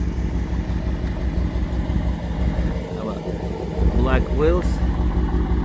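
A Dodge Challenger R/T with a muffler-deleted exhaust idles in a low, steady rumble, and a person talks over it throughout.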